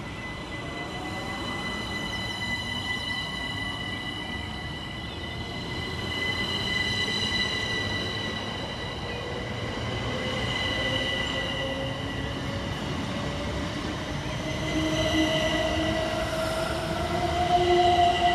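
Southern Railway units 387215 and 387214 depart Angmering station on a London Victoria to Brighton service, with a rising electric motor whine, squealing wheels and rail noise building steadily as the train pulls away nearby.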